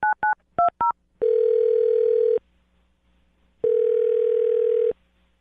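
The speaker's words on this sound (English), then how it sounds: "I'm going to dial his phone number right now" A telephone number is dialed: four quick touch-tone beeps, then two long ringback tones separated by a pause, clear and close with no talking.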